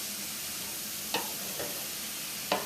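Canned ackee gently folded into saltfish in a hot pan, a steady soft sizzle with a few quiet spoon scrapes against the pan.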